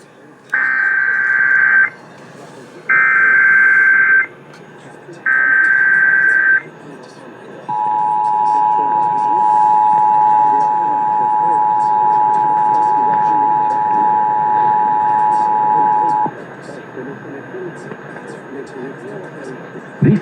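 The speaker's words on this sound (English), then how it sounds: "This is a test of the emergency alert system." Three loud, evenly spaced Emergency Alert System data bursts sound on a Southeast Michigan station, WJR, during a monthly EAS test, followed by a long, steady attention tone and then a quieter stretch of background.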